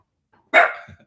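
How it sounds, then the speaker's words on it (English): A dog gives a single loud, close bark with a short tail of sound after it, then silence. "My dog's barking."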